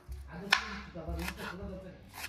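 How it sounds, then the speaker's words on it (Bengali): A knife chops onion and coriander leaves on a board in a home kitchen, with a few soft, irregular cuts close by and a sharp tap among them. "শুধু এখন কাটবো পেঁয়াজ আর ধনেপাতাটা আমি শুধু কাটবো"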